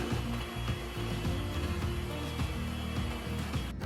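Electric hand mixer beating eggs with sugar for a chocolate cake batter, a steady close whirring drone with a scraping, rattling texture of beaters against the bowl, continuous throughout with no talking.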